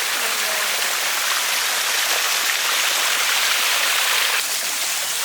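Waterfalls and running water at Ruby Falls make a dense, continuous rushing hiss, steady and fairly loud throughout with no break.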